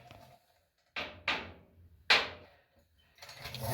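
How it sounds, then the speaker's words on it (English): A torque wrench ratcheting during an oil change on a CFMoto ZForce 600, a few close, sharp clicking and rasping strokes separated by short pauses, ending in a longer grinding run. "Now we go get our torque wrench."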